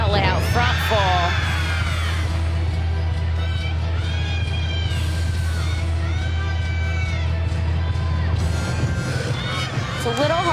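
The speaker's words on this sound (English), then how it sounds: "Missouri is doing a great job of cheering them on." Teammates in a Missouri gymnastics meet crowd keep up loud, continuous cheering, yelling and whooping throughout, with people talking amid the babble.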